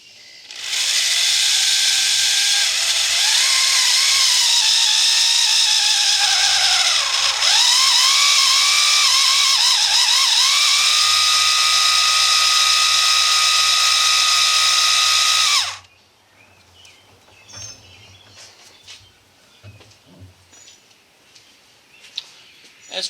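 An electric drill drives the oil priming system on a Studebaker engine, a loud, steady high whine that dips briefly and then cuts off after about fifteen seconds, leaving faint clicks and handling noises.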